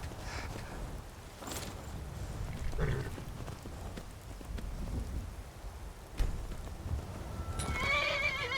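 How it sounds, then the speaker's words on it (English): In Skyrim, a horse neighs and its hooves clop, with steady rain in the background; whinnies come near the start and end, over soft footfalls. "let me get a horse"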